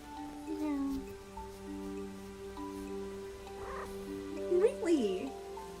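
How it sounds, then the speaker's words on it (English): Miso, a pet cat indoors, gives a couple of short, rising meows, one early and a clearer one near the end, moderately close amid quiet room tone and a person talking softly. "That was my cat."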